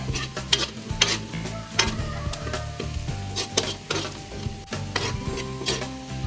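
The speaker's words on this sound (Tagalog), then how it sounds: "medyo pa brownin pa natin ng konti yung ating bawang bago ko ilalagay yung ating crab" Garlic browns in a pan ahead of adding crab for a Filipino sautéed crab with squash and string beans, giving a steady close sizzle with repeated stirring scrapes and light pan knocks throughout.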